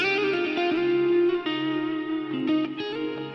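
Electric guitar played through a Timmy overdrive on a Line 6 HX Stomp rings out in sustained, lightly driven chords with a few changes and picking accents, loud and with no talk.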